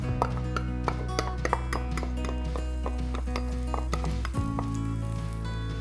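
Garlic sizzles in olive oil in a skillet, a soft steady frying hiss dotted with small crackles and pops, with a steady hum underneath, no voices.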